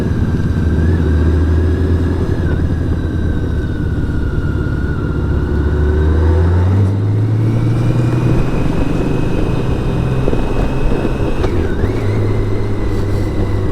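A BMW K1600 GTL motorcycle cruises on a lakeside road with a smooth, steady engine hum and wind rush. Its pitch dips and rises as the bike shifts and changes speed, and no voices are heard.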